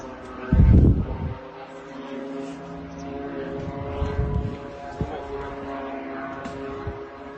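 A propeller-driven long-range attack drone buzzes steadily overhead, with a heavy low thump early on and faint rustling noise around it.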